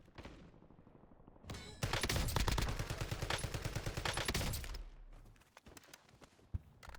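Rapid sustained automatic fire from the Cipher gun in Warzone, a loud burst of close, evenly spaced shots lasting about three seconds, preceded and followed by quieter game ambience with footsteps.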